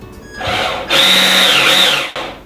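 The small electric motor of an HG P408 Humvee RC car whirs up to a high-pitched whine, holds steady, drops briefly, then starts again, close and loud.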